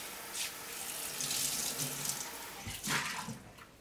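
Water from a sink tap rinsing oily drills, a close splashing rush that swells and recedes with a few clatters and knocks of metal against the basin.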